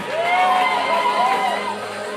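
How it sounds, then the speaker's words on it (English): Indoor strip club crowd at Jumbo's Clown Room in Hollywood cheers a pole dancer, with loud whoops and shouts rising and falling in close overlapping waves. "The crowd rewards her with raucous cheers"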